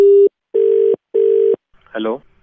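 Three loud, even beeps of a telephone tone sound after a call is hung up, followed by a brief burst of a voice.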